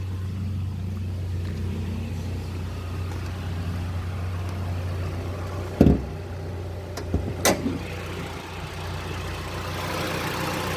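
A 2.0-litre Mitsubishi 4B11 engine with a K&N filter and grounding kit, in a 2010 Mitsubishi ASX/Outlander Sport, idles steadily with a low, even hum, broken near the end by a few brief sharp knocks and clicks.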